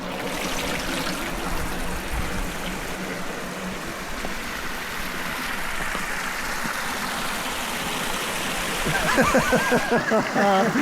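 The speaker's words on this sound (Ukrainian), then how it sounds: "От вона тут тече та вода." Steady rushing, trickling water from a spring fills the scene, loud and close, with a voice breaking in near the end.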